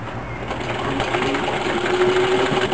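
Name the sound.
sewing machine stitching Velcro into a seam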